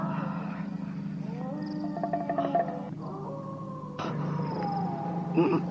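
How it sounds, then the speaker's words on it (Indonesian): A wolf howling far off as an audio drama effect, long wavering howls rising and falling over a steady low background drone, with a second drawn-out howl later, no speech. "Baru juga lolongan serigala di tempat jauh."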